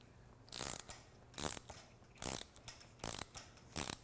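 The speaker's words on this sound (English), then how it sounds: "you're going to unscrew this rebound nut or base bolt" A hand ratchet unscrews the rebound nut or base bolt on a motorcycle fork, giving five bursts of rapid clicking pawl, close and distinct, separated by short pauses in an otherwise quiet room.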